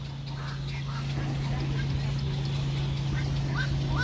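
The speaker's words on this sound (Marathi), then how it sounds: "किती आवाज करता यार हे पक्षी पण." Birds call noisily in Dahu Park, Taipei, Taiwan, with scattered duck- or goose-like squawks rising faintly over a steady low hum and background murmur.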